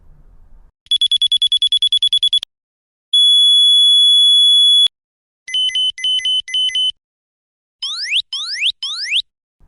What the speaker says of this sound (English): Here's a sample sound for you to hear.